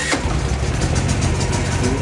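A Philking PK8000i generator starts up by push start, its mid-pitched engine catching quickly and settling into a steady, close running drone.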